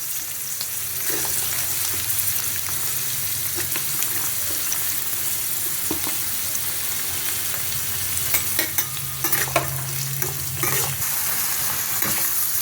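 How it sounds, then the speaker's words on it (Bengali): Beans and carrots frying in a pan for veg pulao, a steady sizzle with intermittent stirring scrapes close up and no talking. "বিনস আর গাজর এগুলো একটু ভাজা ভাজা হয়ে এসছে"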